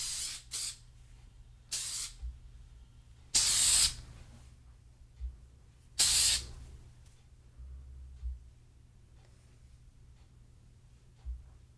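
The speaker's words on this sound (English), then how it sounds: "And I definitely would add some hairspray." Hairspray hisses onto a Jon Renau wig in several short bursts, two of them longer and louder, with quiet pauses between and no talking.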